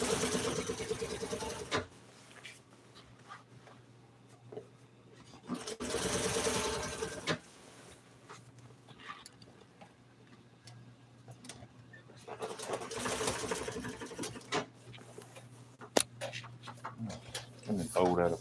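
A sewing machine stitching upholstery for 1955 Chevy seats: several loud mechanical runs of two to five seconds alternate with quieter handling noise, while someone talks over the pauses.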